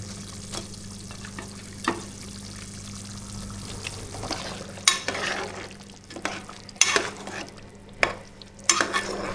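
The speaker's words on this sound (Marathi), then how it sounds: "मित्रांनो, रश्श्याला उकळ आलेला आहे." Fish curry in a pot on a gas stove, with a low simmering hiss and bubbling, then louder stirring, pouring and clattering bursts later on.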